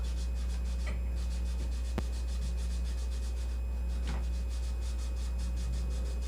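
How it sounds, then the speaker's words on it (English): Steady rubbing of a lid smeared with basic olive oil, a soft continuous rasping friction with rhythmic strokes over a constant low hum, with one sharp tap partway through and no talking. "see as I rub that, how that's starting to come off?"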